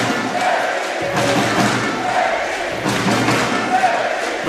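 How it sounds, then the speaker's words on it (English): Fans in a crowd at the 2022 Futnet World Championships triples final cheer and roar continuously for their team, a loud, dense wash of voices with occasional thuds and shouts throughout. "just listen to the fans getting behind their team"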